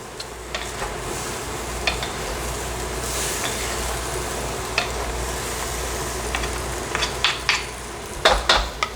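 Teriyaki and kalbi chicken lo mein being stirred in a hot pan, a steady sizzle broken by scattered clinks and scrapes of the utensil, which grow busier and louder toward the end.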